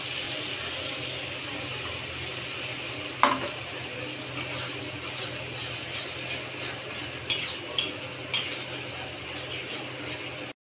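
Onion and tomato paste is stirred into frying shrimp paste, ginger and garlic in a pan for a Bengali kochu shak dish. A soft, steady sizzle runs under occasional spoon scrapes and light metallic clinks against the pan.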